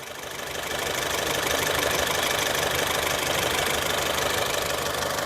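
A 2016 Honda City V car engine idles smoothly, a steady, even hum that rises in the first second and then holds constant, close and alone with no voices.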